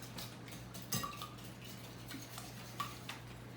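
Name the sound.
whisking eggs in a bowl for quiche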